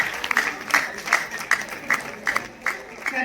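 An audience at a closing ceremony of a music competition claps during prize announcements for the Hindustani light classical instrumental category, with a steady run of crisp, rhythmic bursts of applause at a moderate level.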